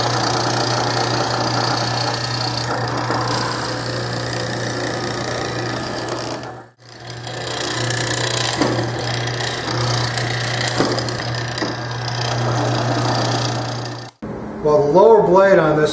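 Power tool steadily cutting mortises into wooden furniture legs for a small secretary, a continuous whirring drone with a brief pause midway and an abrupt stop near the end.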